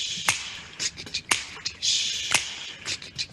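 Finger snaps land on beats 2 and 4 during a choir warm-up, sharp dry clicks spaced evenly and repeating, close and moderately loud against faint background vocal sound.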